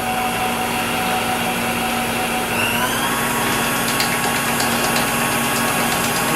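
An electric hand mixer's beaters creaming dough for cheesecake cookies, a loud continuous motorized whir with a steady hum, its pitch shifting slightly partway through.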